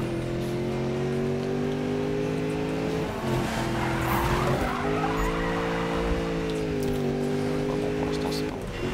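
A car drifts in the racing game Need for Speed, a loud, steady engine drone with screeching, skidding tires as it slides through turns, while a voice talks over it.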